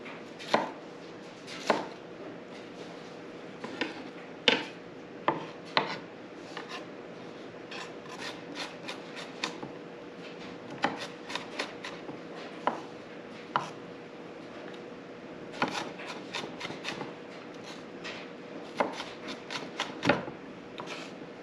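A Santoku knife chops through an onion on a wooden chopping block, giving a series of sharp, irregular cuts and taps, close and crisp, spaced through a quiet kitchen.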